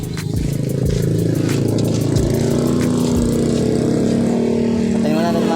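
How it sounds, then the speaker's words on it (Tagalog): A vehicle engine runs steadily nearby in Antipolo, a low constant drone with rhythmic pulsing throughout, while voices talk over it. "Patayin mo natin yung makina."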